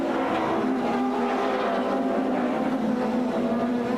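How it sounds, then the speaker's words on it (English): Super Touring race cars, an Opel Vectra and a BMW, battle at a 1996 South African championship round in Port Elizabeth, their engines roaring loudly and steadily at high revs throughout, with no talking. "Linde, desperately trying to hold off the Opel, eventually had to give best."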